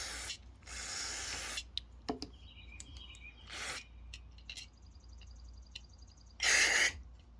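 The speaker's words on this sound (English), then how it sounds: "we'll just keep spraying the different parts of the carburetor" Several bursts of carburetor cleaner spray on Honda carburetor parts, hissing in on-and-off blasts with clicks and faint squeaks between them, the final burst loudest.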